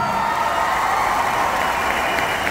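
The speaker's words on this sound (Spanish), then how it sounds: "Y un aplauso para el circo." Circus audience applauding, a dense, steady wash of clapping from a large crowd that holds evenly throughout without pause.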